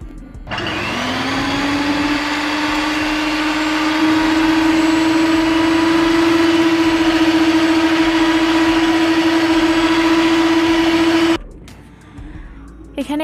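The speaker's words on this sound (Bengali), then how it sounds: "সাদা অংশটাকে আমি বিট করে নিচ্ছি" An electric hand beater whirs steadily at high speed while whisking egg whites for a homemade cake, a loud, continuous motor drone that holds for about ten seconds before cutting off.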